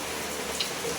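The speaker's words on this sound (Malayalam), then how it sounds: "കട്ടൻ ചായ കുടിക്കുന്നു, മഴ ആസ്വദിച്ചുകൊണ്ട്." Steady rain falls in a home village setting, a soft, even hiss of drops filling the whole moment at moderate distance, with no voices.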